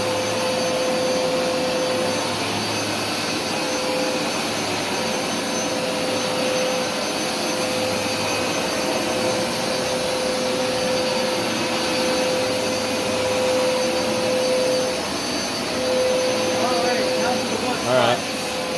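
A Hoover Smartwash carpet washer runs continuously for nearly twenty seconds, washing a carpet with light blood stains, giving a loud, steady motor roar with a thin high whine and slight shifts near the end.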